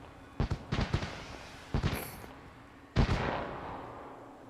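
Fireworks go off in the video game Elden Ring Nightreign as a starting signal, a scatter of booming bursts and crackling pops, with a final louder blast trailing into a long rumbling decay.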